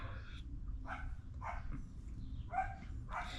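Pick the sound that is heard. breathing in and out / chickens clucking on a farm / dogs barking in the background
dogs barking in the background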